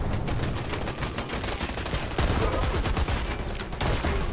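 Dense, sustained automatic gunfire from a Dirty Bomb match on a train yard map, loud rapid shots rattling without pause from start to finish.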